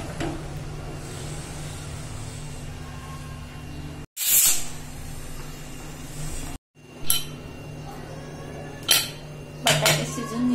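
Metal pots and a pressure cooker being handled in a home kitchen, with several sharp clanks and clinks against a steady background hum and short quiet gaps between them.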